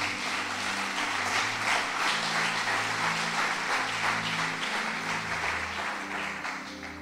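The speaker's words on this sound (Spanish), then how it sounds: "En el nombre de Jesús, dale un aplauso al Señor." A church congregation applauding steadily for several seconds during a sermon, dense clapping that fades slightly toward the end, with faint tones underneath.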